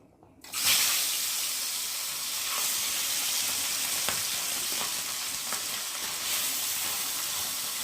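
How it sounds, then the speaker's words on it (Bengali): Parshe fish dropped into hot oil in a pan, a sudden burst of loud, dense crackling sizzle that then holds steady and close for several seconds. "এখন আমি একে একে মাছগুলো দিয়ে ভালো করে ভেজে নেব"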